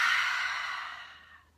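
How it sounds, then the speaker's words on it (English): One soft, close breath is let out through the mouth in a long fading exhale, airy and gentle, alone without talk. "they take a deep breath in through their nose and out through their mouth"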